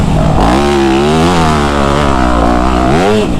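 Dirt bike engine revving hard while riding through deep, beach-like sand, a loud close buzzing roar that rises and falls in pitch as the throttle works, continuous throughout.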